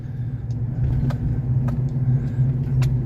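A supercharged Chevrolet Silverado 5.3 Trail Boss pickup carrying a heavy payload rolls downhill, its engine a low steady rumble with road and tire noise, close and constant with a few faint clicks.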